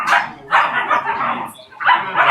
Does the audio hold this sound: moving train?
no